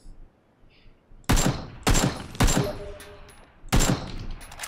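Gunfire in PUBG: four loud bursts of shots with sharp onsets and brief tails, separated by short quiet gaps, with no talking.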